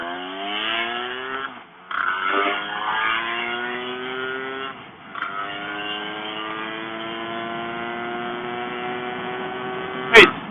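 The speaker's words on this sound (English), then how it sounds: "It's smooth revving." A Lambretta GT300 liquid-cooled scooter, around 32 horsepower, revs on the road with a smooth, close engine note that climbs through the gears, with brief dips at each change and a rising pitch as it accelerates.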